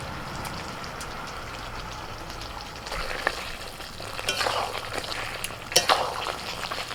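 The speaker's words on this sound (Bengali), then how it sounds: "কাজু বাদামটা দিয়ে আরো কিছুক্ষণ কষিয়ে নিয়েছি" Chicken sautéing with cashew paste in a pan, a soft steady sizzle and frying hiss with occasional stirring scrapes and clinks, close by and moderately quiet, with no talk.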